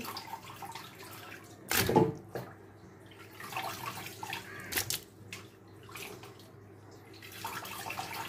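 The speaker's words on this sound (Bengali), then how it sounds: "আমি প্রথমে সবগুলো মাংস ভালো করে একদম ধুয়ে পরিষ্কার করে নিচ্ছি" Beef pieces with bone are rinsed in a bowl of water, with soft sloshing and a couple of louder splashes as the meat is moved about, close by and without talk.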